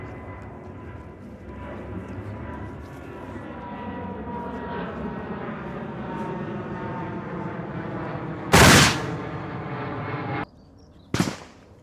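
An old hunting shotgun fires a sabot slug as a sharp, loud blast that cuts through a steady engine-like drone, followed by a shorter second sharp crack after a brief gap.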